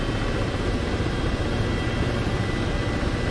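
Engine of a roughly 5,000 horsepower helicopter gunship in the DCS combat flight game, a steady, dense low rumble and whine holding constant and fairly loud throughout, with no voices.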